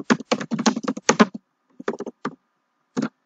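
Rapid keystrokes on a computer keyboard, close and crisp, in a quick burst of clicks followed by a few scattered taps and a pause before one last short flurry.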